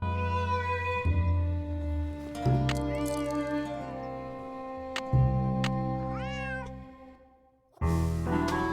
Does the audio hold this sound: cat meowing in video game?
yes